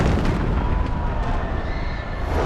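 An explosion goes off inside a car during a stunt, a loud, dense blast roar that fills the whole moment without letting up.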